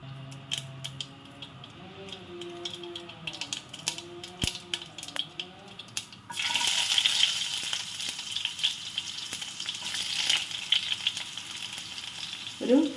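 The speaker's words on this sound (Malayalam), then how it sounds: "കടുകിടാം, പൊട്ടിട്ട്" Mustard seeds splutter and sizzle in hot coconut oil in a home kitchen, a sudden burst of dense crackling frying noise that starts midway and carries on steadily, preceded by quieter clinks and handling sounds.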